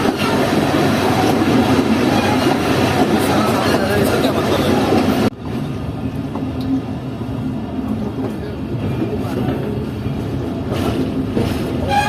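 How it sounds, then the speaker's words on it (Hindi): A Chaman passenger train pulls into Qila Abdullah railway station, a loud rolling rumble with rattling carriages that drops suddenly in level partway through, then continues as a quieter steady clatter. "हमारी 350 डाउन इस तक पहुंच रही है किला अब्दुल्ला रेलवे स्टेशन पर"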